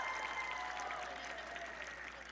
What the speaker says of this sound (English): Let's give another big round of applause to the Stillwater High Junior High School Choir.